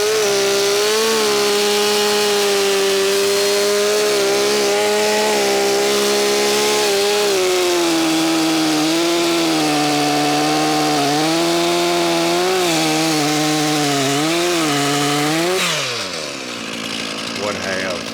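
A chainsaw engine roars steadily up close, its pitch dipping and rising as it bites into a large dead post oak, winding down near the end.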